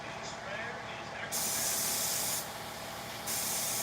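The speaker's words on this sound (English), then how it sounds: "In the sprayer is actually mask paint, Alan." A sprayer loaded with black mask paint, used to grunge up haunt costumes, lets out two loud, close bursts of hissing spray, with a quieter background hiss between them and faint voices underneath.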